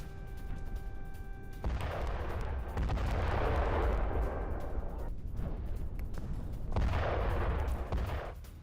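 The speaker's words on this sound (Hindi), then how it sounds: "सिरिक में 3 जगहों पर धमाके हुए हैं।" Loud rumbling blasts and crackling bursts from a US missile strike on an Iranian radar site, several heavy booms in succession with sustained roaring noise between them, no speech.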